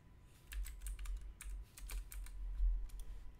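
Fingers type a name on a computer keyboard at a sign-up form, soft, close clicking in quick irregular runs over a low background hum.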